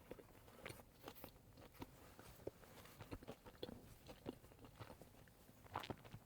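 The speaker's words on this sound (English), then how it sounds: "Let's take a bite." Biting into and chewing a pressed, grilled cookie, heard up close as quiet irregular crunches and soft mouth sounds scattered over several seconds without talk.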